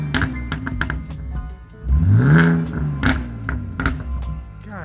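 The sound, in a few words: BMW E46 engine revving with $95 headers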